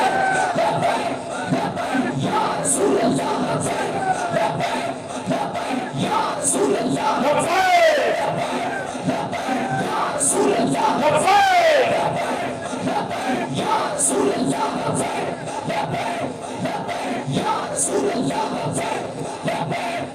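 A crowd at a religious speech gathering chants Labbaik slogans in loud, rhythmic unison, the massed voices swelling and repeating in waves throughout.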